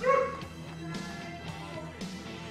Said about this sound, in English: my dogs are going nuts in the background